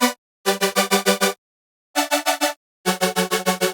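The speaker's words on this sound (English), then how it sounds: "But this one is gonna be the high detune layer. And that sounds like this." Bright, high-detune supersaw layer pitched an octave up on a Vital software synthesizer, struck as short rhythmic chord stabs in three bursts of repeated pulses separated by silences, clean and alone.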